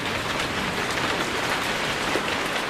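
Heavy rain pours down in Hong Kong during the rainy season, a dense, loud, steady hiss of drops hitting surfaces with no voices.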